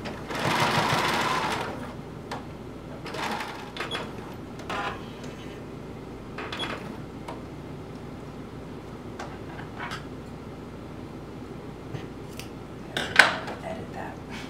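Sewing machine stitching a curved neckline on a top, with bursts of fast mechanical whirring and ticking separated by quieter pauses and small handling clicks, close and fairly soft.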